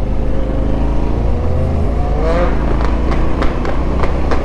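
A motorcycle engine drones steadily, then its pitch climbs in a rising whine as it accelerates, with a few sharp pops toward the end; no one talks.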